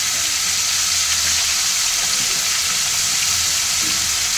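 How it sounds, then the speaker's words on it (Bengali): Spices temper in hot oil in a pan for chira polao, making a loud, continuous, even sizzling hiss with no voices over it. "তারপরে আমি ফোড়ন দেবো"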